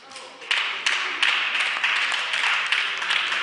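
Scattered applause rings out in a parliament chamber, with distinct claps arriving in irregular bursts at moderate volume from a room full of members.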